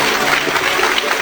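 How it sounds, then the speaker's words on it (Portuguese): A church congregation at a Brazilian Portuguese service applauds together, producing a brief, loud, dense burst of clapping from many hands. "Dê uma salva de palmas para o Senhor Jesus."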